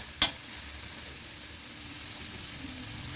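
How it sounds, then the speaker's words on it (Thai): Pork chili paste is stir-fried in a pan with pork broth and tamarind, giving a steady close sizzle after one sharp scrape of the spatula at the start. "แล้วก็ผัดทุกอย่าง ให้เข้ากันนะคะ"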